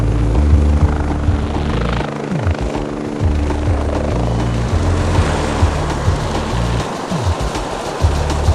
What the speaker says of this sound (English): Even before the helicopter has landed